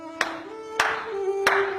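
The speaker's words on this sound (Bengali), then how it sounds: "কে কে হাততালি দিচ্ছে?" Three single hand claps ring out sharply at an even spacing, each one close and distinct, over a quiet sustained tone with faint background sound between them.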